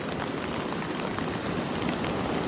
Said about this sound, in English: We're just stuck in a band of rain.